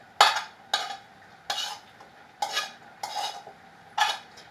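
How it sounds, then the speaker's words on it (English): Cooked meat being mixed with coriander in a pan, six rhythmic spatula scrapes about every three-quarters of a second, close and distinct against quiet, no talk. "I've already added the coriander in, and I'm now just going to mix it up"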